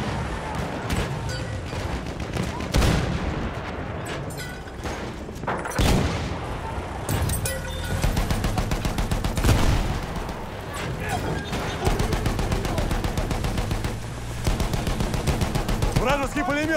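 Machine gun fire from the World War I shooter Battlefield 1 on the Galicia operation map, dense rapid bursts mixed with heavy booms and explosions, with voices shouting over the battle.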